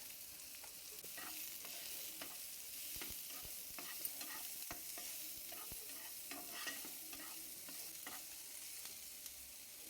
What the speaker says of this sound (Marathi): लसूण छान लालसर होईपर्यंत परतून घ्यायचा त्यानंतर मी आता कांदा टाकून घेतला आहे त्यात